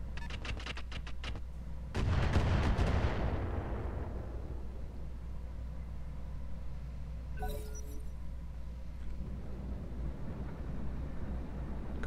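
Battle sounds from the Roguetech video game: a loud explosive artillery boom with a long rumbling decay, preceded by a rapid burst of gunfire and followed later by a brief metallic clink, all over a steady low background hum.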